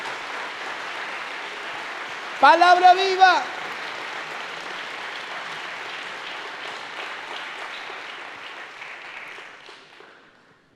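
Church congregation applauding during a Sunday sermon, a steady wash of clapping that runs throughout, with a voice briefly speaking over it and the applause tapering off at the end.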